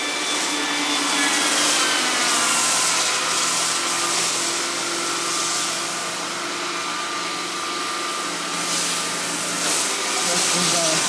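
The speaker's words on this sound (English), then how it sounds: "Oh, Roomba's loud." Roomba robot vacuum cleaner running nearby, a loud, steady whirring hum that holds throughout with slight swells, while someone talks over it at times.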